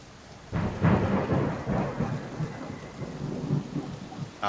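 A deep rumble of thunder with rain rolls in for a tabletop role-playing session, opening with a louder crack and then a sustained, fairly loud roar under steady rainfall.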